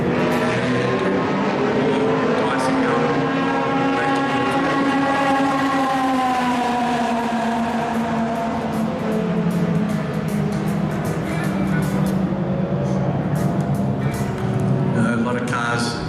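Historic race cars lap a circuit at a 70th-anniversary celebration meeting, engines droning and whining steadily as they pass, under continuous commentary from a voice throughout.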